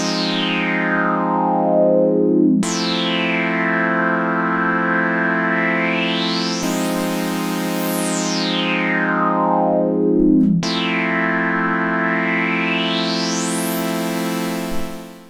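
An Oberheim OB-6 synthesizer patch, rich and buzzy, plays sustained notes with dramatic filter or pitch sweeps rising and falling, four long phrases in a row, loud and alone.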